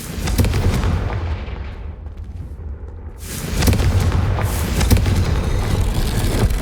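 Explosive spell blasts from combat in Hogwarts Legacy, a fantasy video game, land as dense rumbling booms and crackling impacts under a loud, continuous battle din, dipping briefly in the middle before surging again.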